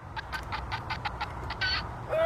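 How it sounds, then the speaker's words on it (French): A clucking toy hen from an Easter egg hunt gives a quick series of about eight short, evenly spaced mechanical clucks, fairly faint and alone, followed by a slightly longer squawk. "Et Swan, il a une poule qui cocotte."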